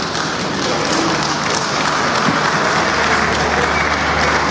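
At the TFF awards ceremony, a crowd applauds steadily and densely for Stefan Aziz Ki, named MVP of the NBC Premier League 2023-2024, with the clapping filling the hall.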